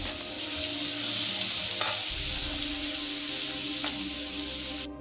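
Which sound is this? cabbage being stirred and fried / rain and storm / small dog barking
cabbage being stirred and fried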